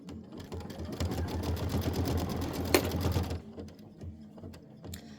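An embroidery machine stitches a snowman quilt block with a rapid, steady mechanical chatter of needle strokes for about three seconds, then stops, leaving faint ticks and quiet.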